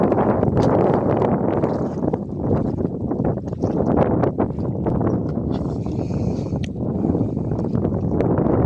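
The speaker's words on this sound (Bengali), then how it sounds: "প্রচণ্ড হাওয়া, প্রচণ্ড হাওয়া।" Strong wind buffets a fishing boat out at sea in rainy weather, a loud, continuous roaring rumble of gusts battering the microphone with no break.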